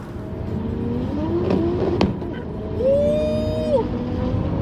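A Toyota Supra races past with a steady engine drone that swells into a higher rising whine near the middle, then settles back, moderately loud against a busy outdoor background.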